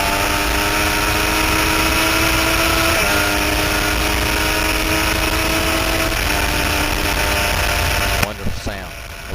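Two Triumph 675 motorcycles race on the Road Atlanta track, their engines holding a loud, steady high-revving whine that climbs, drops briefly at gear shifts and cuts off near the end, heard close throughout without talk.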